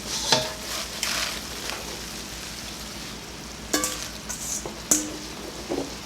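Spinach simmering in a pan of creamy salmon sauce, with a soft steady bubbling hiss, a few sharp stirring clinks of a utensil against the pan, and no talking.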